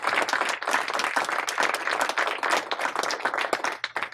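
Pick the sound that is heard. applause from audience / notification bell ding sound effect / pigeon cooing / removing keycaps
applause from audience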